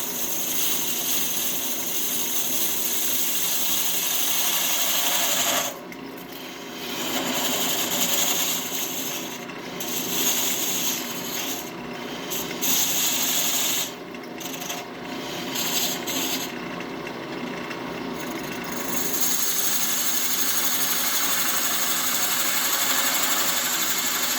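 Wood lathe turning down a yoyo tenon, a steady close hissing scrape of the tool on the spinning wood with several brief pauses where the cut lifts off.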